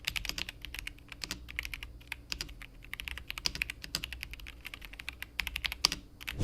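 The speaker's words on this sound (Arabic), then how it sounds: "النسخه اللي معايا دي جايه بسويتشات براون 3 بن، وده اكتر نوع انا بفضله لانه بيجمع بين الصوت الهادي" An RK S98 keyboard with pre-lubed brown three-pin switches is typed on up close, producing a quick, steady stream of soft, muted key clacks with no talking.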